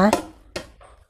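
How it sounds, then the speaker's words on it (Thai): A knife chops shallots into small pieces on a board, with two sharp, close strikes about half a second apart as someone speaks and then trails off. "หอมแดงแค่ใช้เป็นหอมแดงหอมแขกหัวใหญ่นะคะแล้วก็หั่นให้ชิ้นเล็กๆนะคะ"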